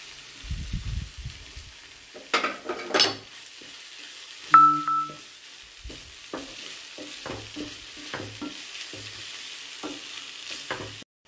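Ginger garlic paste with chili powder frying and being stirred in a pan for a prawn curry, with short scraping stir strokes and soft sizzling bursts, nearby and moderately loud, with no talk.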